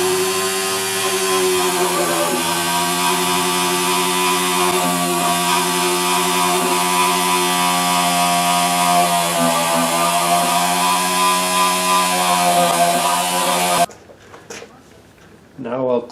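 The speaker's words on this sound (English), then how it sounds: "polish the fretboard with a little rotary tool and make the ebony nice and shiny" A rotary tool polishing guitar frets and an ebony fretboard, a loud steady high whine that runs continuously and close, then cuts off abruptly near the end, leaving quiet handling sounds.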